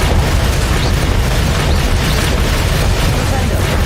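Loud, dense spell blast from the Bombarda charm in Hogwarts Legacy, a sustained booming roar with crackling bursts filling the moment, close and overpowering.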